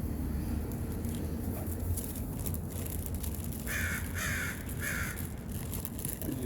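Crows caw while being fed outdoors, several distinct calls in a cluster midway through, over steady background noise.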